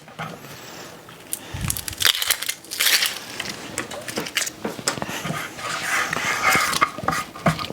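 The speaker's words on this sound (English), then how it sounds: "So you want to peel the onion like this." Papery onion skin being peeled and crackled by hand at close range, a dense run of dry crinkling and tearing rustles, loud and continuous with no talk.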